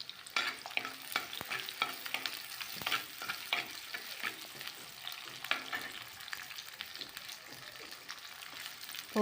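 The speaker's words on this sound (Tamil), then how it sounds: "வெங்காயம் பூண்டு எல்லாம் அரிஞ்சு வச்சுருக்கதை போட்டு வதக்கிக்கணும்" Chopped onions and garlic sauté in oil for a lentil-ball curry, constant crackling sizzle broken by rapid scraping stirs and clicks of a spoon against the pan, close and fairly quiet, without speech.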